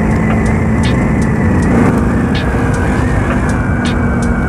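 A Vespa scooter fitted with an old, cut-down DRC volume 33 exhaust drones steadily throughout, a constant buzzing engine note with a hissy, rough texture and no clear pauses.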